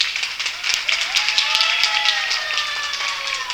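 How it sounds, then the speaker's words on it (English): Audience at a school open day applauding, brisk close clapping throughout with cheering and voices calling out over it. "Give him a big clap."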